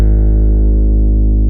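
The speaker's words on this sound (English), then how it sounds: "Without any effects, my harp's bass strings sound like this." Bass strings of a harp played clean with no effects, ringing as one steady, sustained low tone with rich overtones that holds evenly for its whole short length.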